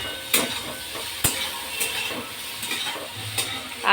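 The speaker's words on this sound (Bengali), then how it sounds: "এখানে আমি সকালে জলখাবারের জন্য ফুলকপি ভাজতে বসিয়েছি" Cauliflower frying in a pan for a breakfast curry with potatoes, giving a steady close sizzle with a few sharp stirring clicks and scrapes of a utensil against the pan.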